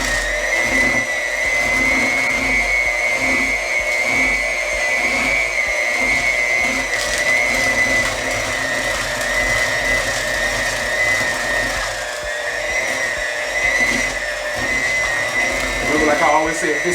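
A blender whirs steadily, mixing coconut milk and coconut rum into a drink, a loud continuous motor drone lasting throughout with a voice talking over it.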